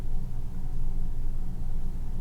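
A Subaru car accelerates from a dead stop, heard as a steady, dense low engine and road rumble from inside the car, with no pauses and no voices.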